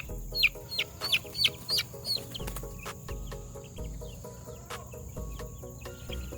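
Chickens cluck in low, irregular bursts while baby birds in a brooder set outdoors in the breeze peep in quick, high chirps. The sound is close and busy, with no talking.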